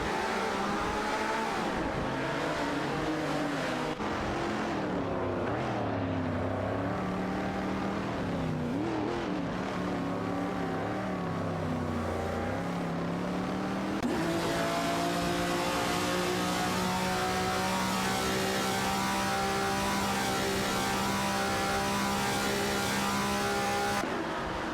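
Porsche 911 race car engines roar steadily in an AI racing video game, several cars revving and shifting pitch as they jockey for position, loud and continuous throughout with no talk.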